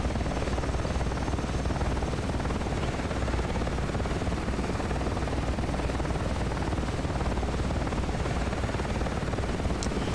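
Huey helicopter in DCS World flying over the Persian Gulf, its rotor thump and turbine engine a steady, dense roar held loud and close for the whole stretch, with no talk over it.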